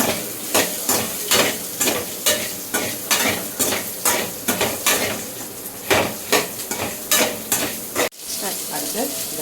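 Chopped onions sizzle and fry in a pan while a utensil stirs them in steady, repeated scraping strokes. The sound is close, loud and continuous, with a brief dip near the end and no talking.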